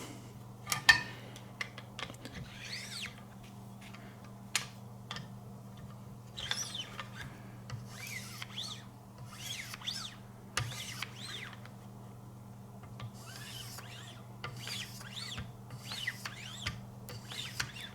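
A Buck 110 knife is sharpened on a Wicked Edge using 6 micron diamond lapping film, giving soft, faint, rhythmic scraping strokes spaced a second or two apart over a low steady hum, with no talk.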